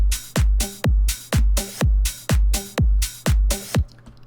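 Tech house beat built from eight evenly spaced, punchy kick drums at a steady club tempo, with a reverse cymbal sweeping in to lead into the next phrase; close and loud, with no voices.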